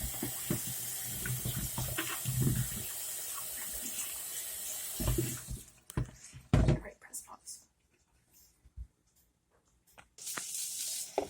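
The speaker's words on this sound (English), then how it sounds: "I am now going to rinse them. And it's best to rinse them with warm water." Warm tap water runs over okra being rinsed in a sink, a steady broadband hiss for about five seconds, then a break with a few clattering knocks before the flow returns at the end.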